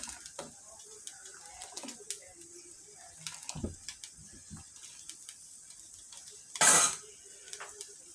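Lentils and garlic being stirred in a cooking pot, heard as sparse, quiet clinks and scrapes of a utensil against the pot, with one louder scrape near the end.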